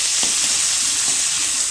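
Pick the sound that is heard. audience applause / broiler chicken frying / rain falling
broiler chicken frying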